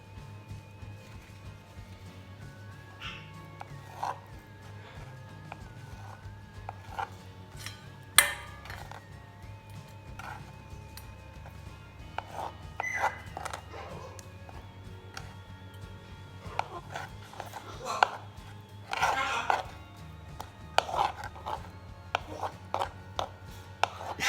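Knife chopping apricots into small pieces on a board in a home kitchen, irregular crisp taps and thuds, close and fairly quiet, with occasional clinks of utensils and no talking.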